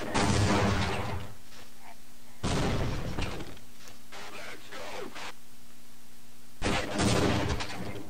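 Grenades launched at Marines in Half-Life: Blue Shift burst in three loud, booming blasts spaced a few seconds apart, with a steady hum and scattered clatter in between and no talking over the blasts.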